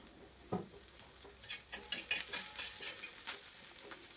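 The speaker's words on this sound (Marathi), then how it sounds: "आणि फोडणी आता छान तयार झालेली आहे" Tempering for chapati chivda sizzles in a pan, a soft crackling hiss that grows busier after a single early clink of a spoon, close but fairly quiet, with no voices.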